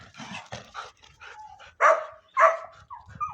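Several dogs bark in quick, energetic bursts, with a couple of louder sharp barks standing out near the middle, fairly close by.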